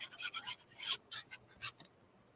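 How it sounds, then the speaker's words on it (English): Paper photo page being trimmed at the edge, a series of short dry rasping cuts in quick succession, close and fairly quiet, with no talking. "I'm just going to trim off the edge there"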